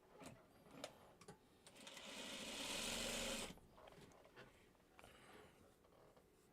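A sewing machine stitches fabric strips together in one short burst of about a second and a half, framed by quiet handling clicks and small taps of the fabric, faint and close.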